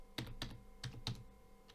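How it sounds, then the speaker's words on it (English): Keys clack on a computer keyboard in a short burst of four quiet, fairly close presses with no voices. "Let's type ls once again, maybe using arrow up on our keyboard."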